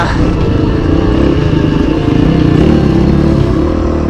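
A rebuilt 2005 Honda CRF450X dirt bike engine runs on a trail with a loud, steady drone that stays close and continuous throughout, and no clear rev spikes stand out.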